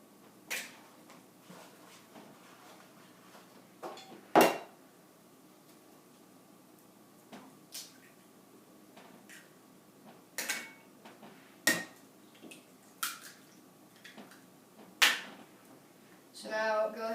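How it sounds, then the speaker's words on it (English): Four large eggs are cracked and the shells tossed into a bowl in a kitchen, making sparse, sharp little taps and clicks spaced a few seconds apart over a quiet room background. "we'll go ahead and toss those eggshells straight into that bowl"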